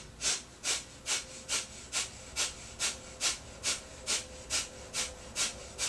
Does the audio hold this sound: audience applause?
no